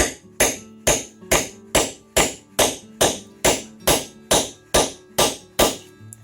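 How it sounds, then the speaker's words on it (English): A brass hammer strikes a lathe spur down into a wood block, about a dozen sharp, evenly spaced knocks roughly half a second apart, each ringing briefly with a metallic tone, close and loud with no talk. "I use a brass hammer."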